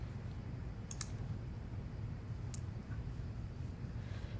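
A mouse click during a Windows 10 installation on a PC: two close, faint clicks near the start and one more a bit later, set against a steady low hum with no talk.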